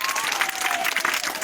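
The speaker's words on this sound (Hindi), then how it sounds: "जोरदार ताली बजाइए उनके लिए" Schoolchildren in a government school classroom clap loudly during a quiz game, a steady dense burst of applause with no gaps from start to finish.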